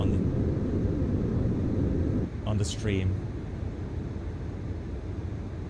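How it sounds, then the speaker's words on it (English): Loud, steady broadband roar of Airbus A340-600 jet engines at climb power in the MSFS2024 flight simulator, constant throughout, with someone talking briefly over it midway. "when you still have climb power, the engines produce a lot of noise"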